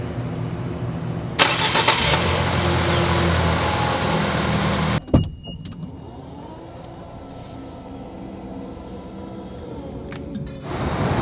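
An Infiniti QX55 SUV engine cranks and catches after a moment, running loudly for a few seconds before dropping to a quieter, steady background hum.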